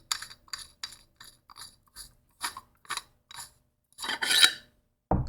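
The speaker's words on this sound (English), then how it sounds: "All you have to do is just unscrew the handle." Leather-wrapped handle of a Batman-themed Neopixel lightsaber being unscrewed, giving a series of short dry rasping twists with brief pauses between them, close and fairly quiet, ending in a longer gritty scrape and a final knock.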